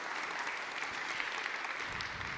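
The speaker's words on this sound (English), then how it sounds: "a round of applause for Milan." Dense, steady applause from an audience after a technical talk on hand-move recognition, continuous and fairly loud throughout with no speech over it.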